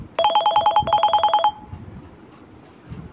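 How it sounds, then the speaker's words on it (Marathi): A telephone rings nearby with two rapid bursts of bright electronic trills, one right after the other, then stops and leaves quiet room noise. "एक फोन घेतो मी"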